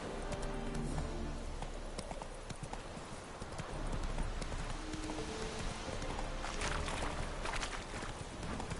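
Hooves of the horse Roach clip-clop steadily in The Witcher 3, a rhythmic trot over game ambience with a few brighter clattering steps, moderately quiet.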